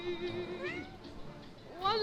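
A cat meows repeatedly outdoors on a city street, its drawn-out cries fairly close and clear over a low background murmur.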